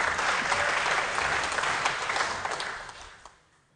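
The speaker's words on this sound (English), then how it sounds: "I think you give that some applause." A canned applause sound effect on a podcast, a burst of dense crowd clapping that holds steady, then tapers off and fades out within a few seconds.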